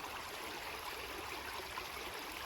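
The Kotlovka River, a small stream in Moscow, flows with a faint, steady watery rush and soft trickling, heard alone with no voices.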